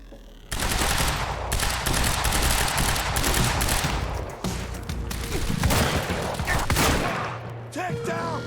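Rapid assault rifle bursts ring out in the shooter game Quantum Break, loud sustained automatic fire with brief pauses between volleys, ending with a short break and a few final shots.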